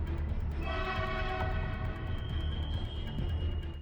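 A Jakarta-Bandung high-speed train sounds a sustained, multi-tone horn over a loud, deep rumbling rail roar that continues for several seconds without voices.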